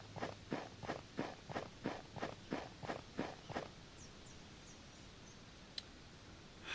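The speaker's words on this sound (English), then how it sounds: "Footsteps are a little loud." Footsteps in a 2.5D Pokemon Snap-style video game, about ten fairly loud, evenly spaced steps in a steady walking rhythm that stop partway through, followed by faint ambient game sounds and one short tick.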